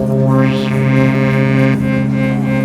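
Dreadbox Erebus 3 synthesizer with oscillator 2 switched on and off by oscillator 1, a steady buzzy drone with a brief rising and falling sweep near the start and a tonal shift partway through, played continuously without talk.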